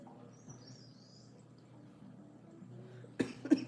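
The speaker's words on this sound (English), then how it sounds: "I still have a cough" Quiet room tone, then two sharp coughs in quick succession near the end, close by.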